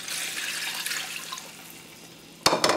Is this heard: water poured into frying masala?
yes